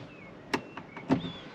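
Two sharp clicks about half a second apart as a campervan window latch is pushed into its open setting, close and clear over a quiet room with faint background hum.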